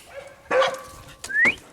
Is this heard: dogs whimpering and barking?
yes